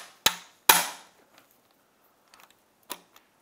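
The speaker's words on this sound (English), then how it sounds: "and just pop it with the hammer." A hammer taps a Phillips bit on a Yamaha 60HP T60 outboard during timing belt replacement, two sharp metallic strikes close together, a few faint clicks, then a third lighter blow in a quiet workshop.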